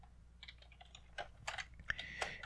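Keys clatter on a computer keyboard in a short, irregular burst of close taps and clicks, with a few sharper strokes standing out near the end.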